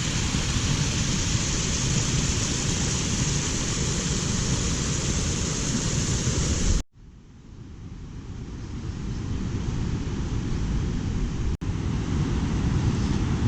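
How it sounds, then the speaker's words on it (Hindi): A small waterfall flows beside the mountain route to Hemkund Sahib and the Valley of Flowers in Uttarakhand, a loud, steady rush of water that drops out abruptly midway, then swells back to full strength. "एक छोटा सा झरना बह रहा है।"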